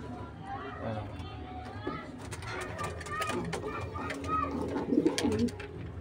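Pigeons at a rural loft coo softly and repeatedly close by, with wing flutters and low bird chatter, while people talk over them.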